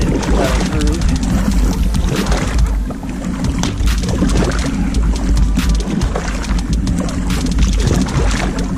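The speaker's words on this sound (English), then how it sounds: "Still able to paddle through." A kayak paddling through a slushy, icy pond during a snowstorm, with loud continuous sloshing and crunching of slush against the hull, mixed with wind noise on the microphone and no talk.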